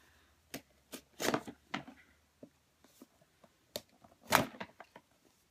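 A February Birchbox subscription box being opened: scattered sharp crinkles, rips and handling noises in short bursts separated by near-silence, close and fairly quiet.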